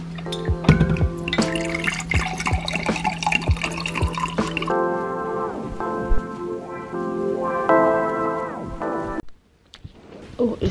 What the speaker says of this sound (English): I'm just going to drink a cold water.